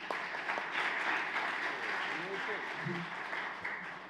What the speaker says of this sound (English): Let's give Kirsten a round of applause.